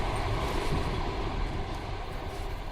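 Interior of a moving passenger train: a steady low rumble and rolling hum from the carriage, even and continuous, with no voices.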